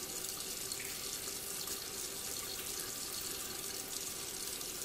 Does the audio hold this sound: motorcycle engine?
no